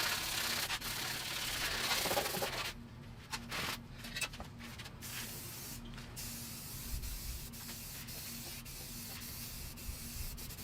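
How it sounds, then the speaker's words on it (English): A sanding sponge scrubs sticker residue off a plastic part of a 1998 Yamaha Timberwolf ATV, giving a harsh, continuous rasping hiss that softens after a few seconds into quieter, steady rubbing with brief scuffs. "Hit it real fast with the sanding sponge again"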